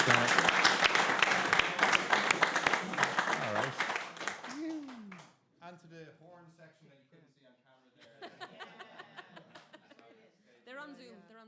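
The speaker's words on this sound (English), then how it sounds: "So big round of applause." Audience applause at the close of a singing session at the Seamus Ennis Arts Centre, dense clapping with scattered chuckles for about four seconds, then fading as people begin talking.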